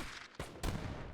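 Light cannons fire in a strategy video game, two sharp, booming blasts in quick succession, each trailing off into a rumbling decay, fairly faint overall.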